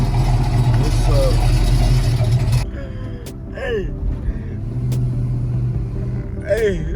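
A Box Chevy truck's engine runs after an oil leak fix, its loud rumbling idle close by, dropping to a lower hum partway through, with occasional clanks and a voice talking over it.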